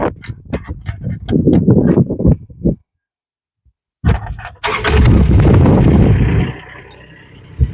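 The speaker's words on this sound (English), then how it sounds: "All right, Matt, let's start the engines" Two mini excavators, a Rippa R18 and a JoyT5 JT5200, crank and fire up: sputtering starter bursts, a brief silence, then a loud, rough diesel clatter that settles into a steadier running rumble, close by.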